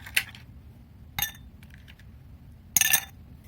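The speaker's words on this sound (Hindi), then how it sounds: "अब हम इसमें डाल देते हैं आइस क्यूब।" Ice cubes dropped into a glass of shikanji, three distinct bright clinks spaced apart, with the last a rattling cluster of glassy knocks, close and clear over a quiet background.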